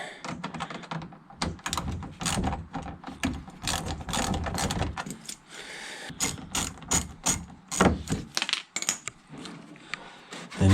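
A ratchet fitted with a Phillips or PZ bit undoes screws on a Lexus IS200. It gives rapid, close clicking in repeated bursts with brief pauses between strokes.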